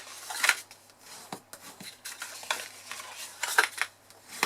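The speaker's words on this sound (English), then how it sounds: "we just fold the sides over" Sheets of paper are folded and burnished into tabs for a gingham backpack, giving soft scraping swipes and light papery rubs in an irregular rhythm, close and fairly quiet.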